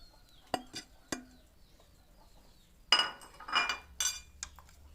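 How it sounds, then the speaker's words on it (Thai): Crab paste being stirred by hand with pounded lemongrass and salt: a few sharp clinks of a utensil against a bowl early on, then a rougher burst of scraping and stirring clatter, fairly close, with no talk. "ใส่เข้าไปแล้วก็คน"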